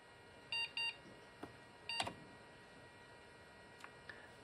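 An Intel SR440BX motherboard's onboard beeper sounds two short beeps, then a third, followed by faint scattered ticks in a quiet room.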